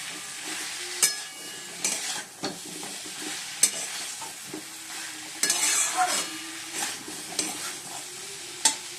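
Cauliflower florets are stir-fried in spices, with a constant close sizzle punctuated by sharp spatula scrapes and clacks against the pan at irregular intervals.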